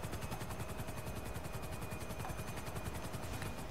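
Helicopter flight in GTA Online gives a steady, loud rotor thrum with a continuous whining engine tone that holds unbroken throughout, with no talk.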